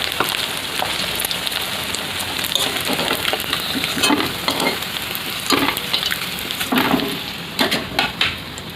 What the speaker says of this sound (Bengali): এর বাকি মাছটা ভেজে নেব।